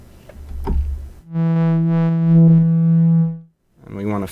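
A sustained, buzzy synthesizer tone with a gritty, distorted edge holds steady for about two seconds, with brief talk before it and after it.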